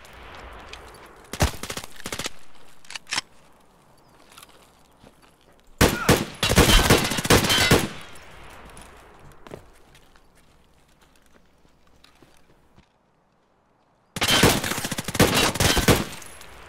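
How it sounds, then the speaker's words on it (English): Bursts of rapid automatic gunfire ring out in the shooter game Escape from Tarkov, with three loud close volleys of a couple of seconds each separated by quieter stretches of footsteps and movement. "I didn't know you were shooting at somebody."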